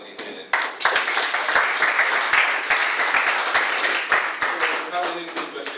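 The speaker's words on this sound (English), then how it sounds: "a big round of applause for everybody here" Audience applause after a short speech to academy students, dense continuous clapping from a crowd with sharper individual claps standing out, close and sustained for several seconds.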